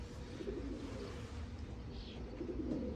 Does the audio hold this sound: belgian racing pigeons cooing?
yes